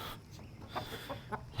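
A single rooster gives a few soft, quiet clucks at close range in a farmyard at feeding time, with short pauses between the calls.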